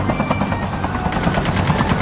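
Rapid bursts of gunfire in the mobile shooter Call of Duty Mobile, layered with a steady helicopter-like drone during a squad match, dense and continuous with repeated crackling shots throughout.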